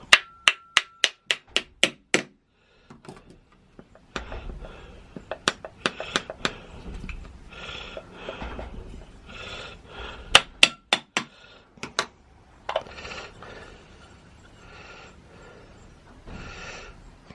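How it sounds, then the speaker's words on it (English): A stuck float bolt on a Honda CB550 carburetor being knocked loose: a quick series of sharp metallic taps, then scattered clinks and handling noises, with a few more loud taps later, close and clear with no talking. "Float bolt itself a little bit stuck, so give it a little tap."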